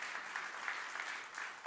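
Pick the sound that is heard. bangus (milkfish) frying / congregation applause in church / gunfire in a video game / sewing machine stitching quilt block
congregation applause in church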